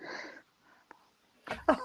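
Soft breathy noises come first, then a single close sneeze bursts out sharply near the end.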